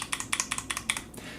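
Membrane keyboard keys struck hard and pushed to full depth, giving about seven crisp, evenly spaced clacks in quick succession, close and clear with no voices.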